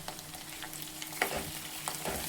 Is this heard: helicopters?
no